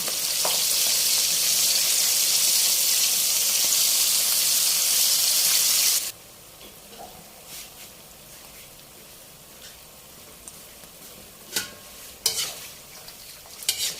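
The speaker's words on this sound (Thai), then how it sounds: "จากนั้นก็นำปลาลงไปทอดได้เลยค่ะ" Small minnow fish deep frying in hot oil make a loud, dense sizzle that holds steady for about six seconds, then cuts off, leaving quiet with a few sharp clinks of a utensil.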